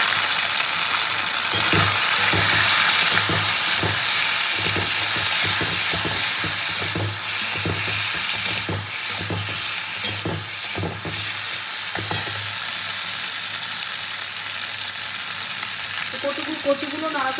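Boiled gati kochu (taro) frying and being stirred in a pan for a taro dal, a steady loud sizzle with rhythmic scraping stirs through most of the stretch, quieter stirring toward the end.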